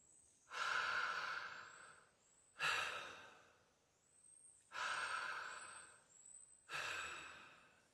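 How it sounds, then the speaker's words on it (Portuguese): Four deep breaths drawn in through a wide-open mouth during a pranayama exercise, each a loud, rushing inhale lasting about a second and a half, evenly spaced, with quiet pauses between them and no talk. "Inspira profundo, toma bastante ar pela boca, expande o peito."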